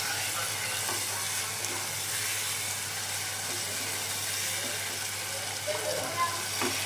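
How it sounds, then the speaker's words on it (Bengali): Spices sautéing in oil in a pan, a continuous fizzing sizzle with faint clinks of stirring, steady and moderately close. "কষাইতেছি"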